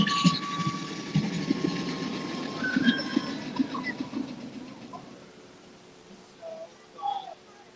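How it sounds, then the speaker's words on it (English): The Big Thunder Mountain ride train at Disneyland rumbles and clatters nearby, with faint squeals over a steady roar that fades toward the end. "Come on, train."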